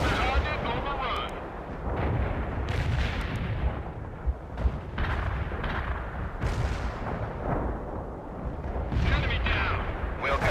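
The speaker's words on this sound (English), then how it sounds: "Artillery barrage inbound." Artillery barrage in the strategy game World in Conflict: repeated heavy booming impacts and explosions in bursts, loud and rumbling, with radio-style voices talking over parts of the barrage.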